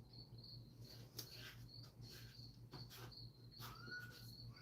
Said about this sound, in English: Yeah, I got crickets.